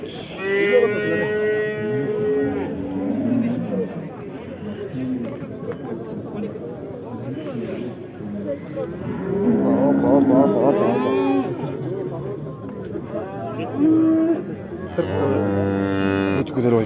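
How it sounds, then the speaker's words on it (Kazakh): Cattle mooing at the Karakol livestock market, where cows and heifers are traded: several long, loud moos from nearby animals, at the start, midway and near the end, over constant crowd chatter and voices. "Бүгүн биз Каракол мал базарындабыз."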